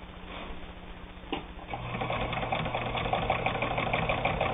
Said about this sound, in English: Not a lick of trouble sewing 8 layers of heavy denim.